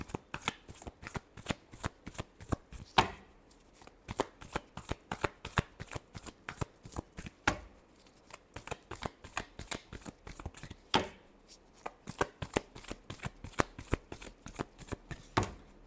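Tarot cards shuffled by hand at close range in a steady riffling rhythm of quick crisp flicks, with a few short pauses, and no voice over them.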